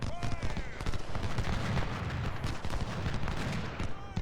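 Dense, continuous rifle volleys and crackling musket fire from the Civil War battle game Ultimate General: Civil War, loud and layered with overlapping shots throughout, no talk.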